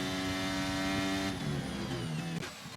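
Race car engine in a racing video game at a Mexico circuit, a loud sustained high-revving whine that drops in pitch as the car zooms past, then shifts gears.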